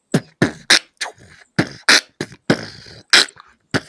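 A rapid series of short, harsh throat-clearing bursts, close to the mic, about ten of them in uneven rhythm.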